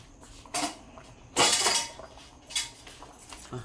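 A lid is set onto a pot of traditional Cantonese fish soup, producing a few clinking metallic knocks, the loudest a near clatter midway, with quiet gaps between.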